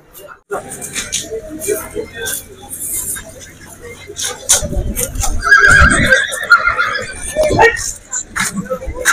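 A black horse whinnies amid outdoor crowd noise and people talking, with traffic sounds nearby, at the Yeola horse market.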